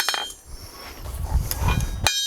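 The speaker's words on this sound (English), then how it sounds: "using the 2-pound hammer and just spreading out with the face of the hammer" A 2-pound hammer strikes hot steel while forging an ornate kebab skewer, flattening it with the hammer face; a few sharp ringing blows stand out over low rumbling shop noise, fairly close.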